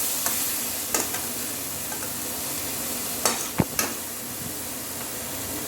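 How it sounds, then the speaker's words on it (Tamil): Jaggery being stirred constantly in a hot pan for Tamil sukku urundai dry-ginger sweets: a steady sizzling hiss with scattered scraping knocks of the spoon against the pan, close and alone, with no voices. "கை விடாமல் நல்லா அதையும் மிக்ஸ் பண்ணி விட்டுட்டே இருங்க."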